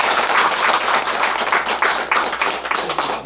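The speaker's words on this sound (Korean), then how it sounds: "큰 스님께 박수로 좀" An audience applauds a senior Buddhist monk after his Dharma talk at an autumn-semester closing ceremony, a steady wash of clapping hands sustained for the whole few seconds, alone and fairly loud.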